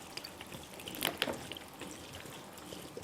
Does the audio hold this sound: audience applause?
no